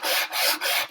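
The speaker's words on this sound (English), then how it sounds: "I'm going to sand like this a little bit." Hand sanding by hand, rough abrasive rasping in three long strokes with brief pauses between, close and fairly loud with no voices.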